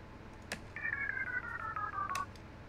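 A BeepBox 8-bit synth preset with an organ-like tone plays a short run of sustained electronic notes that step slowly downward, faint and close, with a couple of brief clicks and no talking.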